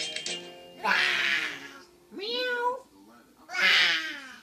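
A cat meows three times up close, loud drawn-out calls with a rising and falling pitch separated by brief pauses.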